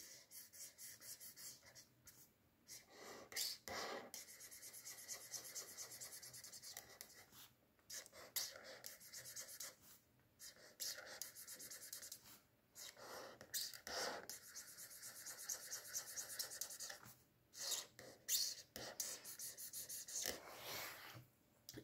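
A pencil scratches quickly back and forth across paper while colouring a Minecraft diamond axe in pixel art, in steady soft strokes close to the microphone.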